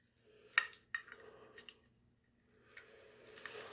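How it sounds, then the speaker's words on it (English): A handheld herb grinder twists and crunches a small bud of cannabis close up, with quiet scraping clicks and short gritty bursts in an otherwise hushed room. "Drop a nice little nug in the grinder there."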